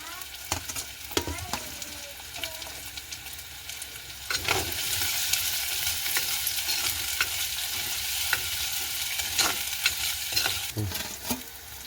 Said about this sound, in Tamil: இப்போ வெங்காயம் வதங்கி கொண்டு வருகுது இதோடு சேர்த்து வட்டி வச்சுக்கிற உள்ளியையும் வதங்க விட போகிறோம்